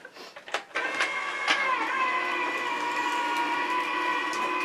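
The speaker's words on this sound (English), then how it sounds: "So I have to put it through my die cutting machine" A papercraft die cutting machine runs with a steady, close mechanical whir and hum after a few brief clicks at the start. It continues evenly with no talk.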